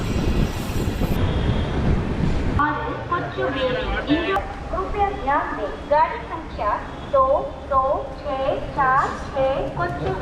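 The Chennai Central to Calicut express, train 12685, rolls into Morappur junction with a steady rumble of wheels and carriages while a voice talks over it up close.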